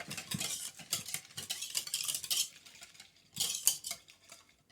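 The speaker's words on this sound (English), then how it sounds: "you just want to add a little bit of milk because if you add too much milk, it will be kind of soggy. And so you just mix that in real good" French toast batter stirred with milk in a bowl, a utensil scraping and clinking against the dish in steady bursts, close and moderately loud with no talking.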